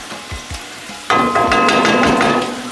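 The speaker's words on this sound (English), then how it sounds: "So long as the onion is able to fry in that oil, that's all we need." Chopped onion dropped into hot cooking oil for Kenyan food, a few soft knocks and then a sudden, steady close sizzle of frying that holds loud to the end.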